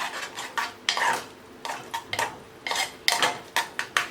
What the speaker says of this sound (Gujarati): અને હલાવી લેવાનું છે